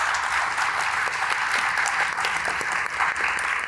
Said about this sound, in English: How about a round of applause for our panel?